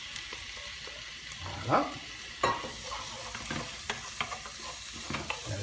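Squid sizzling in a pan with garlic and onion for seafood linguine, a steady frying hiss with a few sharper crackles and stirring knocks; a voice speaks once.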